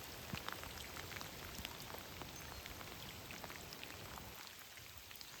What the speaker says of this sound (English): Starting to come down a little harder again.